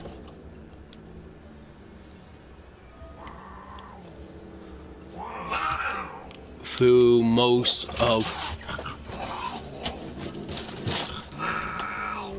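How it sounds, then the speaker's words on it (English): Two pet cats fight indoors, low growls rising into loud, drawn-out yowls and a sharp caterwauling burst, while a person talks over much of it. "the cats are fighting"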